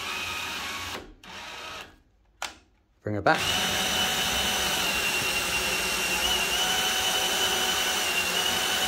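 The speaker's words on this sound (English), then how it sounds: "It's quite noisy because it's on my drill." A power drill whines loudly, cutting out twice briefly before running steadily, driving a 3D-printed telescoping arm mechanism that rattles; a voice speaks briefly near the start.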